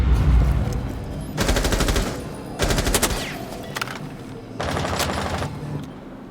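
Automatic gunfire in a competitive shooter match, fired through a wall into a lounge, arriving as three rapid bursts of close, loud shots separated by brief pauses.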